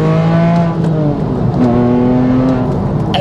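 A manual Porsche 911 997 Carrera 2S sports car revs with its exhaust valves open, producing a loud, sustained engine roar with shifting pitch close up.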